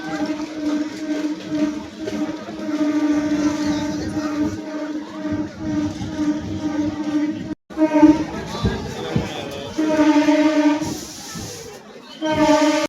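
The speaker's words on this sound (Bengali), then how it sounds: "দেখুন এত ভক্তের ভিড়, এই ঠাকুরনগর ট্রেন লাইনে এমন ভিড়, তাহলে ট্রেনে কেমন ভিড় হয়েছে ভাবুন।" A dense crowd of devotees packs the railway line at the Thakurnagar fair, a steady loud hubbub with drawn-out tonal blaring over it and a brief cut near the middle.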